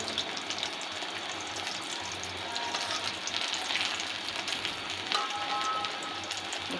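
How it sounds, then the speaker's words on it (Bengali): Pieces of food deep-frying in a pan of hot oil, a steady close sizzle and crackle running throughout with no voices over it. "দেখতেই পাচ্ছেন আমি এগুলো সুন্দরভাবে ভেজে নিচ্ছি।"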